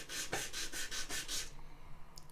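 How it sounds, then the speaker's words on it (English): A guitar nut is sanded on 180 grit sandpaper in about six quick, rhythmic rasping strokes up close, then the sound falls to quiet. "Now we're going to sand until that is pretty much disappeared"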